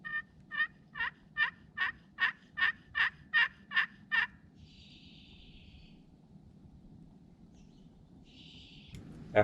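A wild turkey during a Wisconsin spring hunt gives a rhythmic series of about ten evenly spaced, fairly close calls, followed by quiet woodland background with faint distant sounds.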